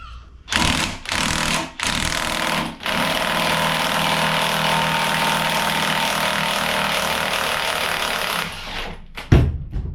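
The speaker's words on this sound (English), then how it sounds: "So I got my balancer puller on here. I'm gonna see if I can get this balancer off" A balancer puller, driven by a loud power tool, removes the harmonic balancer from a 4-bolt-main small-block Chevy engine. It starts with several short rattling bursts, then runs in one long continuous hammering buzz before stopping with a clunk.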